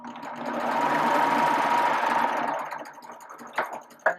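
A serger runs steadily, its motor hum and rapid stitching sustained for about two and a half seconds as the trimming knife cuts the fabric edge, then it winds down and stops, followed by a couple of brief handling clicks.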